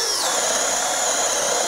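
Craftsman V20 brushless 1/2-inch hammer drill running at steady high speed, a loud continuous motor whine with a slight pitch rise at the start, no talking.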